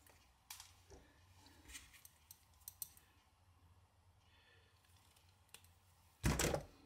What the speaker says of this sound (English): Just gonna grab this, snip it off.